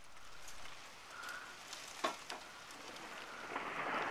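A thunderstorm in Los Angeles, California, with steady rain hissing on surfaces, a sharp crack of thunder near the middle and heavier rain swelling at the end, heard from indoors at moderate volume with no voices.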